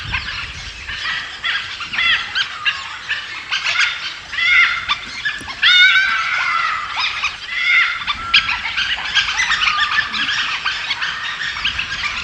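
Pack of wild dogs in the Nilgiri hills clashing over territory, a dense continuous chorus of high yelps, whines and squeals from many animals at once, fairly near and sustained throughout.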